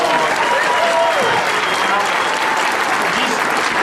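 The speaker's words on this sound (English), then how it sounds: "So give him another round of applause." Loud, continuous crowd applause fills a hall at a 2012 Bernalillo County political convention, with cheering voices and a few shouts woven through the steady clapping.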